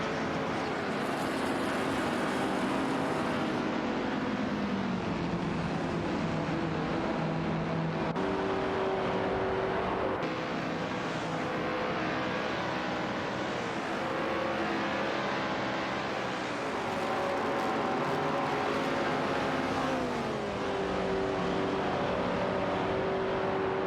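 Race cars in an AI racing video game drone steadily with layered engine tones whose pitch shifts up and down as they accelerate and shift, a continuous loud mix with no talking.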